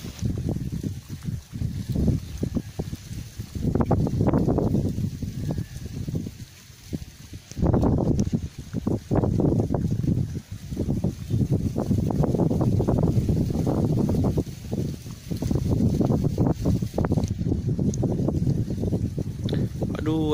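Gusting wind buffeting the microphone beside rice fields near Mount Karang in Pandeglang, rising and falling in loud rumbling bursts, with a voice speaking over it.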